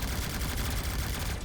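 Spaceship weapons in the space combat game Starpoint Gemini 3 fire in a dense, continuous barrage, a loud rapid stream of overlapping shots with no pauses.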